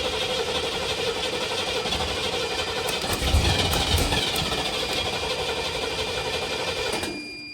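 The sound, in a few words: 1968 Camaro 396 big-block engine running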